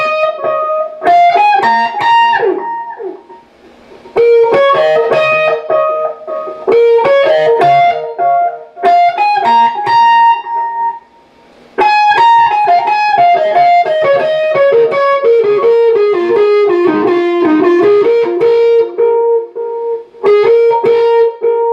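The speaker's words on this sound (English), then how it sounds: "This trumpet has a lot of delay on it, probably some reverb." A solo trumpet playing a funk line with heavy delay and some reverb, bright phrases in bursts with echoing repeats trailing between them, close and loud without talk.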